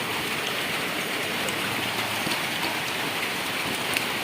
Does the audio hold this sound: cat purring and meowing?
no